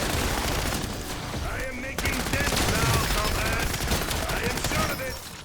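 An MP40 submachine gun in a Zombies shooter game fires continuous rapid bursts, a dense crackling rattle that runs throughout, with faint game effects mixed in.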